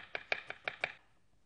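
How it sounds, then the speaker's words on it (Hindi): Ginger roughly sliced with a kitchen knife on a board during a cooking show, five crisp chopping strokes in a quick even rhythm, close and clear, followed by quiet. "अदरक को हमने स्लाइस करना है, सिर्फ रफली स्लाइस करेंगे"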